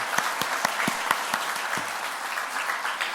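A church congregation breaks into warm applause to welcome a visiting missionary family during a worship service, with steady clapping from many hands filling the room.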